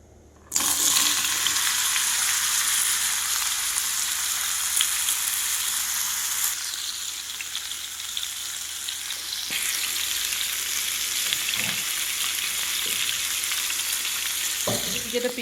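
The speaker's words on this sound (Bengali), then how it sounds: "যেটা পেঁপে ভাজা বসিয়ে দিয়েছি" Papaya pieces frying in hot oil in a wok, a loud, continuous hiss and crackle that starts suddenly and holds steady throughout, with a few soft clinks, close by and no talk.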